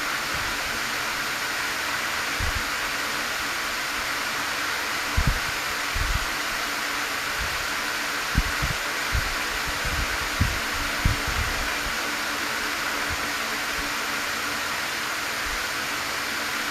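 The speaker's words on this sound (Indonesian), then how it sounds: "Banyak kipas bang, iya suara ya." Many electric fans running together produce a steady broadband whoosh that continues through the whole stretch, with scattered low thumps and no talking.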